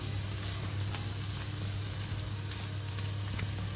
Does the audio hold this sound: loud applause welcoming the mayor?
no